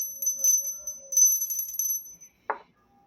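A notification bell sound effect: a bright ringing chime with a shimmering high tone for about two seconds, then one short sharp ding near the end.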